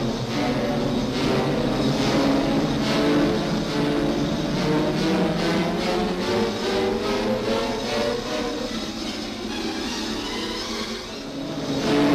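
Transport plane engines taking off in a continuous roaring drone that rises steadily in pitch and power for several seconds, loud and sustained with no voices.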